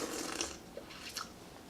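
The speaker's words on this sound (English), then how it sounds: "Slurping is encouraged, by the way." Short, close slurps of Sheng Puerh tea, a 2016 blend, sipped from a cup, with two quick wet bursts and no voices.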